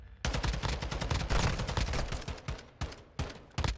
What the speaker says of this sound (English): you just kept shooting through the wall